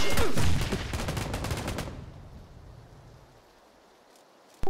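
Rapid burst of gunfire in PlayerUnknown's Battlegrounds, a loud close volley of many quick shots for about two seconds, then fading echo and near silence.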